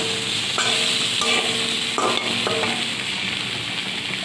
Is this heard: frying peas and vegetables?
yes